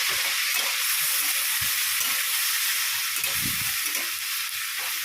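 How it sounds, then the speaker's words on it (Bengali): Goat meat with jackfruit frying in a pan, a steady broadband sizzle holding for the whole stretch, with a few soft stirring knocks underneath and no talking. "একটু লাল লাল করে ভেজে নিই"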